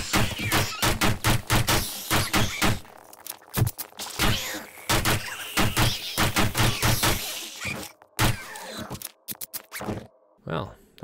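Rapid pistol gunfire from the zombie survival video game 7 Days to Die, set in a shopping mall, rings out as a long run of sharp, loud shots in quick rhythm with brief pauses, over a steady game background hum.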